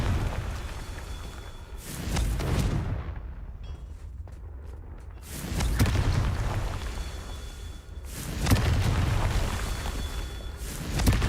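Confringo blasting spell explosions in Hogwarts Legacy: three loud, booming blasts a few seconds apart, each a heavy burst with a rumbling tail, and a quieter pause between the first two.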